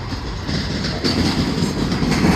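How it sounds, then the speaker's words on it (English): A subway train bound for Manhattan rushes through Hunters Point Avenue station, a loud, steady roar of wheels and cars passing close by with a faint clatter and no voices. "And there goes the train to Manhattan."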